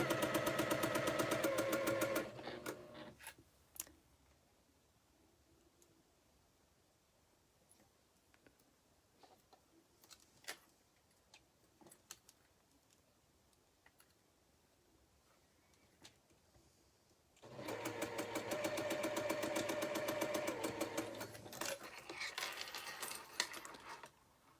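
A sewing machine chain piecing star quilt pieces runs in two loud rapid bursts at the start and again later, with quiet ticks, clicks and handling of fabric in the pause between.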